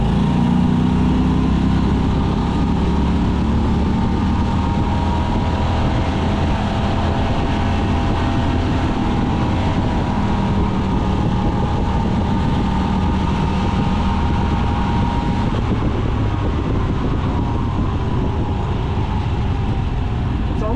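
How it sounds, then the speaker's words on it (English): A golf cart motor drones loudly and continuously at high speed, its pitch wavering and sagging slightly as if held back by a rev limiter, with constant wind and road noise. "It's like it hits a rev limiter and it starts to slow down."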